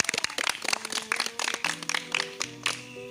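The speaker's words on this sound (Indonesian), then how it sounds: "Tepuk tangan." Quick bursts of hand clapping from a few people, close and uneven, over a bright electronic melody with sustained tones.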